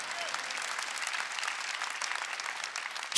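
A church congregation at a Sunday worship service claps steadily, a loud, even burst of applause that continues without pause for the whole clip.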